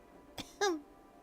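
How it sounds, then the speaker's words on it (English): A light cough sounds twice close by and quietly: a short puff, then a slightly longer voiced cough, against near silence. "Ignore the light coughing."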